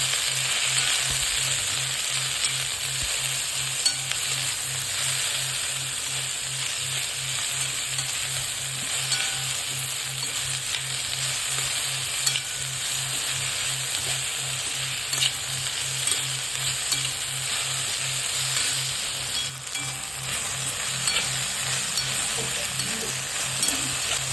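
Cut okra fries for a spicy Maharashtrian bhendi bhaji, giving a continuous, even sizzle and crackle from a pan close by. Faint stirring comes through now and then, and no one speaks.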